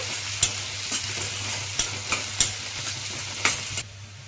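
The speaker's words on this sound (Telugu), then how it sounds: "సన్నగా కట్ చేసుకున్న ఉల్లిపాయలు, పచ్చిమిర్చి ఈ దోరగా వేయించుకున్నాము" Sliced onions and green chillies frying in a pan for a beetroot egg fry, with a steady sizzle under irregular scraping strokes of a spoon, close and moderately loud, no voices.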